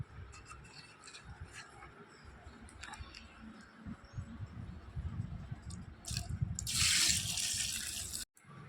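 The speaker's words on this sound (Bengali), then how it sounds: "এবার আমি এই আমার যে মানে ওয়াটার পিউরিফায়ার যে জলটা, সেই জলটা আমি এর মধ্যে ঢেলে দেবো।" Purified water is poured into a small aquarium set with stones, rising from a soft trickle to a fuller, splashing gush before it cuts off abruptly.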